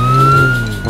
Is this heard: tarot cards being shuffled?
no